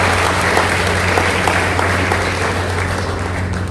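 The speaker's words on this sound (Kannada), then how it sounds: "ಒಂದು ಜೋರ ಚಪ್ಪಾಳೆ ಹೊಡಿ" An audience at a police commissioner's public talk applauds loudly in a sustained, even roar of clapping over a low electrical hum.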